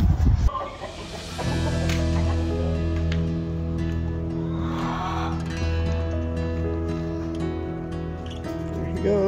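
Chickens clucking and a rooster in a barn, steady layered bird calls with a low mechanical hum underneath, fairly close and continuous.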